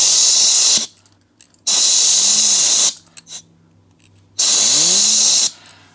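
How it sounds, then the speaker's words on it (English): Three loud bursts of compressed air hiss through a hand-spun F3 motor, each with a rising and falling whirr, separated by short quiet gaps and clicks. "spin this by hand while I'm spraying air through there"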